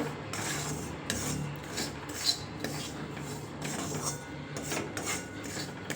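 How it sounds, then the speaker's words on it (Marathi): Dry, steady scraping and rubbing of a spoon stirring green mung flour as it roasts in a pan over a low flame for ladoos, with rhythmic strokes repeating close by and no talking. "आता बघा याप्रमाणे आपण हे पीठ सगळं भाजून घेऊ मंद आचेवर."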